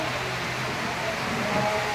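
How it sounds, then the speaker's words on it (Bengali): Rain falls in a continuous, even hiss that fills the whole stretch, dense and unbroken with no distinct drops standing out. "বৃষ্টি হচ্ছে।"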